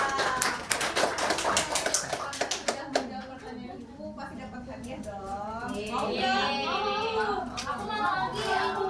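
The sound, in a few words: applause for a classmate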